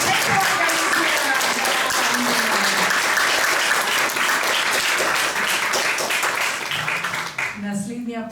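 A dense, sustained round of audience applause at a Slovenian book-project closing ceremony fills the hall, then tapers off near the end as a voice begins speaking.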